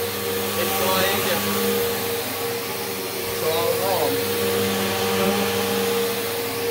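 A vacuum cleaner runs steadily with a loud, constant whirring drone close by, while people talk over it.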